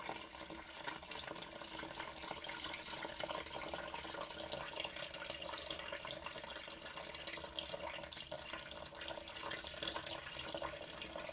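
Water poured from a tap into a bowl of bread dough on a kitchen scale, a steady faint splashing trickle running continuously and quietly with no talk.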